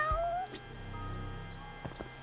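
A cat meows in a video game, a single short faint call early on over a low steady game background, followed by a few soft clicks.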